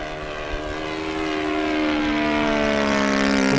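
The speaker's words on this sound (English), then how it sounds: "we're going to just take off again so you guys can hear the airplane" An FMS 1700mm Corsair V3 RC warbird on a 6S battery with a new propeller flies past, its steady electric motor whine rising and swelling gradually as it nears, loud and continuous with no talk.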